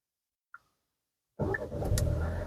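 A 2024 Hyundai Creta SX(O) with a 1.5 manual engine, started with the key: a faint brief click after silence, then the engine catches abruptly and settles into a steady, close idle.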